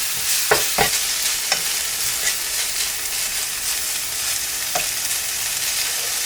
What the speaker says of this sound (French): je viens effriter mon petit bouillon et je mélange tout ça